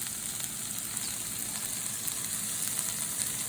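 Onions for liver and onions sizzle and caramelize in a pan, a steady, even crackling hiss with no talking.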